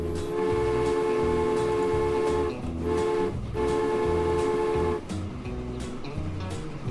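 A train running in the video game Transport Fever, a steady layered engine drone with sustained tonal hum, continuous and fairly loud, dipping briefly near the middle and toward the end, with no talking.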